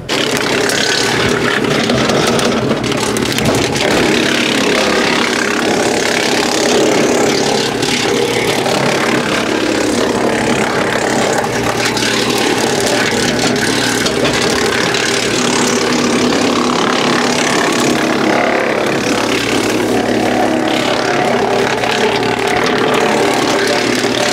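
A tractor-driven wood chipper clearing overgrown land runs in a steady, loud engine drone that holds without a break from start to finish.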